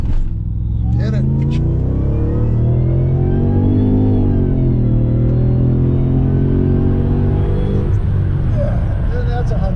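A 2007 Dodge SRT-8 with all-wheel drive runs hard on a dyno, its engine note loud and close, rising steadily through a long pull, dipping near the end and then climbing again. Voices talk faintly underneath.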